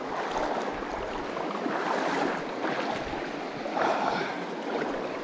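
A fresh mountain river in early spring flows steadily as someone wades through it, a broad, continuous rushing wash with gentle swells, close and moderately loud.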